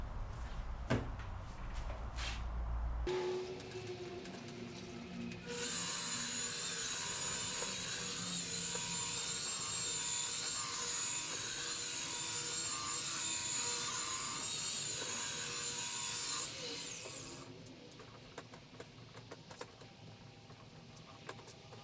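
A polishing pad buffs high gloss polish onto a Yamaha outboard cowling, a steady, loud whirring rub that holds for about twelve seconds before easing off, with softer handling sounds before and after.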